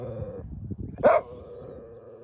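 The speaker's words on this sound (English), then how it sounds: "obviously it's standing its ground too, because he's still barking at it." Outdoors in a wooded area, a dog gives one short, fairly loud bark over a low rumble of background noise, with no speech.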